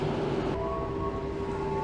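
Steady interior rumble of a business-class train in Indonesia running on Java, with a continuous low drone and faint tonal hum, no voices.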